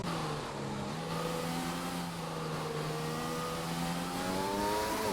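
A race car engine in a league racing game, at the Hungary circuit on medium tyres, hums steadily and rises in pitch through gears, fairly faint and unbroken.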